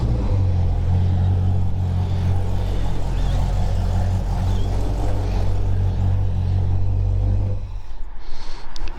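Ford XB Falcon engine idling after firing up, a deep steady low rumble held close and loud for several seconds before cutting off near the end.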